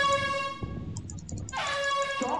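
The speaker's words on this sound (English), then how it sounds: "Air horn." A loud air horn item blasting in the video game Lethal Company, a brief tonal honk over game noise, with a second burst near the end.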